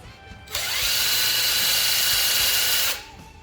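A power drill spins an abrasive cleaning pad against an old bolt in a garage, running as a loud, steady whir for about two and a half seconds before stopping.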